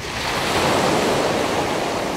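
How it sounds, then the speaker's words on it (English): Sea waves wash onto a beach in a loud, steady rush of surf with wind buffeting the microphone, a continuous roar that swells slightly midway, and no voices. "It's just the water. It's just the waves."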